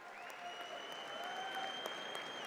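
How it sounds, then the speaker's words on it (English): A convention audience claps in a steady burst of applause, fairly faint and even throughout, with a few faint tones under the clapping and no talking. "Applause."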